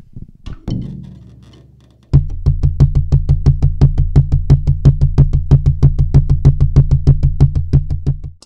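Right-hand drum strokes, a single struck hit followed by a rapid, steady run of even, close taps at consistent loudness lasting around six seconds.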